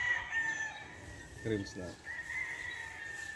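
A gray gamefowl rooster, a Sweater Boston Gilmore three-way cross, crows once briefly at a game farm while a person talks over and around it.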